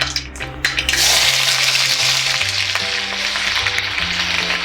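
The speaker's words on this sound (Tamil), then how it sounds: "எண்ணெய் ஊற்றி வச்சுருக்கேன் கடாயில். இப்போது கடுகு போட்டுக்கலாம்." Mustard seeds hit hot oil in a kadai while mutton kudal curry is cooked, bursting into a loud, close, continuous sizzle with crackling spatters that settles into steady frying.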